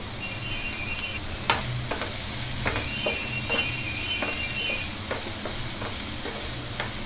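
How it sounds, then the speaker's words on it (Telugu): Onions fry in a pan with a sprinkle of turmeric, a steady close sizzle and hiss under repeated scraping clicks of a spoon stirring against the metal, with no talking. "వేయించుకోవాలండి ఆనియన్స్."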